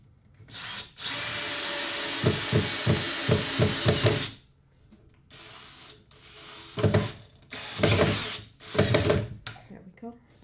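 A power drill drives pocket hole screws into a wooden grill cart frame, one long loud whirring run with rapid pulsing clicks near its end, then shorter bursts of drilling after a pause.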